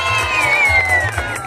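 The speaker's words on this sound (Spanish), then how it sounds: "Aplausos para nuestra pareja número 3." Festival crowd at a cultural coronation event in Firavitoba, Boyacá, cheering loudly with steady whoops and shouts that fill the whole moment.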